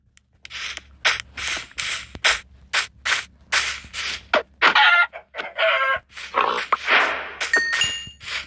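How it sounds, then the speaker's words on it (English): A Minecraft chicken clucks over and over in short, loud, bright bursts, with several squawky rooster-like calls mixed in and no talking. "Come on, stupid chicken."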